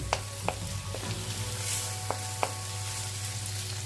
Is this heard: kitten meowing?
no